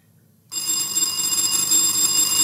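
A quiz contestant's answer bell at a school science quiz speed race rings out abruptly after near silence, a loud continuous electric ring that holds steady to the end.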